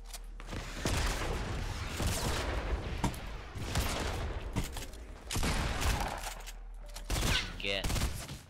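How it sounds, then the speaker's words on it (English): Quad launcher rockets firing rapidly in Fortnite, a dense barrage of repeated blasts and booms across the clip, loud and close, with gunfire mixed in. "spamming those rockets"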